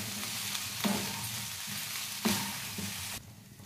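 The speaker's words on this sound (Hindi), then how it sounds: "अब डाल देंगे हम चावल, अच्छी तरह से मिक्स कर लेंगे 2 मिनट।" Rice is stirred and mixed in a hot pan over a continuous sizzle, with two distinct scraping sweeps before the sound drops off near the end.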